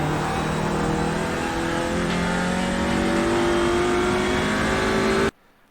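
Race car engine in a TCR touring car racing game at Sonoma, held at a steady loud drone with a slowly rising pitch for about five seconds, then cutting off abruptly.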